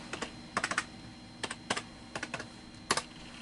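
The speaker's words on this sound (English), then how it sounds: "And I'll type in my password." Bursts of typing on a Dell desktop computer keyboard, quick clusters of clicking keystrokes separated by short pauses, close by with no voices.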